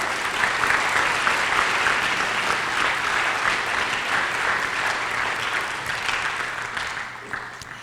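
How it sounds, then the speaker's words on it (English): A crowd at a community walk and candlelight vigil applauds a performance, steady full clapping that carries on for several seconds before gradually thinning out. "Let's give them a round of applause."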